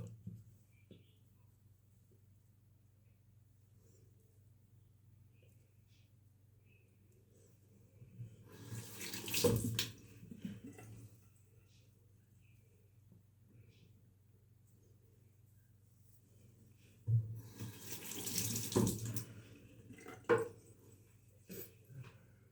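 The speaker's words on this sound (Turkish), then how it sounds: "Aletimizi ıslatıyoruz ve tıraşımıza başlayacağız." A bathroom tap runs in two separate bursts to wet a Merkur 34C safety razor, each a few seconds of splashing water against a quiet, low background hum.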